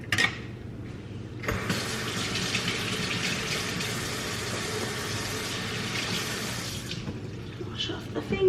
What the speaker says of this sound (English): Wash off the fingies.